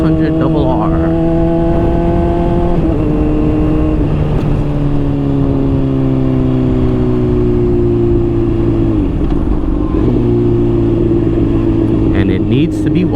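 A 2017 Honda CBR600RR with a flashed ECU revs up close and loud, its engine pitch climbing and falling in repeated sweeps, with a voice speaking over it at times.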